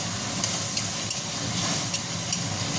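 Ground coriander, cumin and turmeric sautéing in a pan for a vegetarian soybean dish: a steady, close sizzle and hiss with a few faint scrapes of stirring, no voices.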